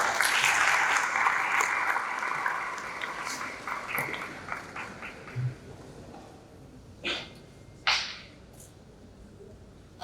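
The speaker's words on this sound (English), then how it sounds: "Please, a round of applause for that." Applause at a developer festival event dies down over the first few seconds, dense clapping thinning to scattered claps, followed by quieter room noise with a couple of brief isolated thumps.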